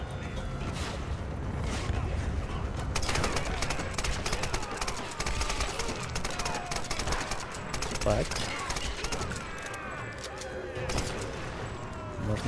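Gunfire in the video game Tomb Raider crackles in dense bursts and rapid volleys over constant game noise, while players talk throughout.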